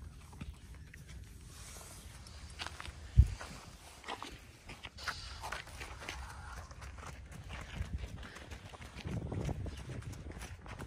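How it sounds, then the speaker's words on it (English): Donkeys shift and step about on the ground, giving soft, uneven hoof thuds at close range with one sharper knock, amid low handling noise and faint background sounds. "Nice donkeys. You're very nice donkeys."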